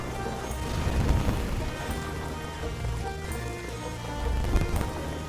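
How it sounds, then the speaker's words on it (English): Rain falls steadily in the Sea of Thieves video game, a dense, loud wash of drops that continues without a break, with low rumbling swells underneath and no voices. "It's raining now as well."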